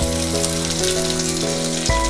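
Chinese cabbage and other vegetables fry in half a tablespoon of olive oil in a pan for a chicken stew, a dense, loud sizzle holding steady over two seconds with a brief surge near the end.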